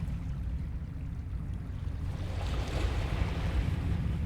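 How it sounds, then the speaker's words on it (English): Ocean waves washing in steadily within a Lovecraft horror video game, a continuous low rumble of surf with wind that swells slightly louder toward the end. "Got waves right here."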